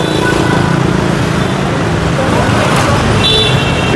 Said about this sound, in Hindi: पीछे ट्रैफिक का शोर बहुत ज़्यादा है,